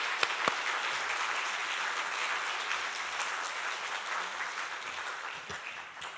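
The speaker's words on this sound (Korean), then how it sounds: "우리 나오실 때 박수로 축복합니다" A church congregation claps steadily through a special early-morning prayer service as a guest is welcomed forward, with dense, even applause filling the room for several seconds before tapering slightly at the end.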